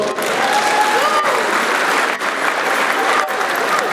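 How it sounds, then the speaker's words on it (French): Applause from an audience at a university orientation day in a hall, a steady dense wash of clapping that fills the whole stretch at close range and full volume, with a voice faintly mixed in. "Je pense que ça mérite des applaudissements."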